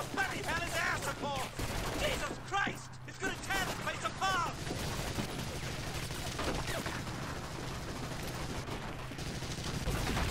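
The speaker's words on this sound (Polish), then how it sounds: "Eksplozje, wybuchy." Dense gunfire and explosions rumble through a Medal of Honor: European Assault battle, with continuous loud shooting and blasts while voices call out over the noise.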